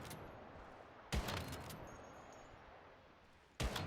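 Weapon fire in the video game Once Human: two separate loud, sharp gunshot bursts a couple of seconds apart, each with a quick crack and short decaying tail over a quiet game background.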